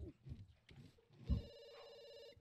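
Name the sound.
telephone ringing in the video game The Sims 2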